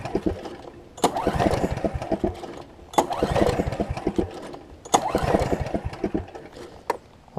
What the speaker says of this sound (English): I'll figure out why it's not going to crank for me.